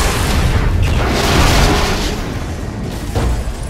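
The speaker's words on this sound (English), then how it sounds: "Possible laboratory break-in confirmed by big explosion." A big, loud explosion in LEGO Marvel Super Heroes, a sustained roaring boom with rumbling debris that fills the whole stretch with dense broadband noise.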